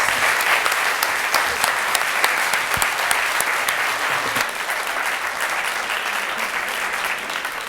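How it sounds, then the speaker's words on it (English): An audience at a grant-awards event applauds panelists with sustained, dense clapping that fills the whole stretch and tapers only slightly toward the end, with no speech over it. "So let's have a round of applause for our panelists."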